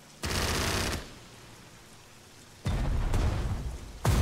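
Bursts of gunfire in the World War II strategy game Strategic Mind: Blitzkrieg: two loud, continuous rattling volleys separated by a quiet gap, then a third burst beginning at the very end.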